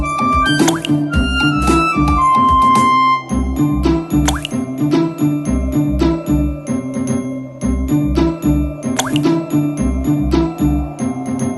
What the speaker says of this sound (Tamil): மேலும் அதிகமான கற்களை போட்டு அந்த பானையை நிரப்பியது.